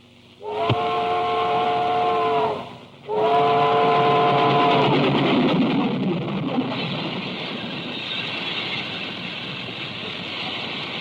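A steam locomotive whistle blasts twice in long, loud harmonic tones, the second held longer, then fades into steady rumbling train noise.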